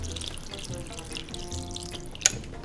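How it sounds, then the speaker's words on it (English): Water poured into an Instant Pot of beef stew with meat, a steady soft splashing trickle with a brief brighter splash near the end, close by. "I'm just adding a little bit more water because I want some of this meat to be covered."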